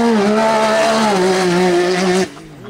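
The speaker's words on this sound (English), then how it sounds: "The exhaust was facing away from us there." A 350 hp Can-Am Maverick R side-by-side with an Evo Stage 5 exhaust roars loudly past, its steady high-revving engine note holding strong before cutting off abruptly near the end.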